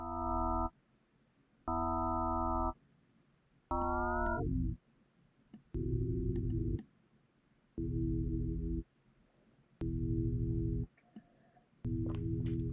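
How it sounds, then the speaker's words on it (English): A swarm of synthesized sine waves made in Ableton Live 12 pulses in repeated on-off blocks, stacked steady pitches that sometimes glide and shift between bursts, loud with silent gaps in between. "Give me a swarm of sine waves."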